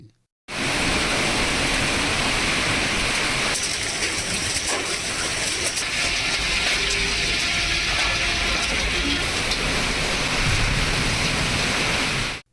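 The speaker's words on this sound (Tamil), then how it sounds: "ஆலங்கட்டி மழை பெய்தது" Hail falling with heavy rain during a windstorm in Tamil Nadu, a dense, steady roar of rattling, clattering impacts that stays loud and unbroken for the whole stretch, with no voices.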